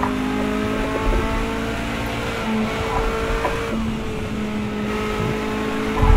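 Toyota GT One race car in Project Cars 2 at Le Mans, its engine droning steadily at high revs under full throttle with shifting whine tones, loud and continuous throughout.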